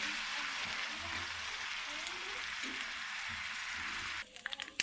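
Ginger and garlic browning in hot oil give a dense, continuous sizzle like light rain, ending in a few quick clatters as the pan is stirred.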